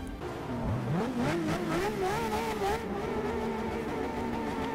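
A Ferrari F50 engine revs and howls in Forza Motorsport 6 at Monza, its pitch climbing and wavering as it accelerates, loud and steady throughout with no voices over it.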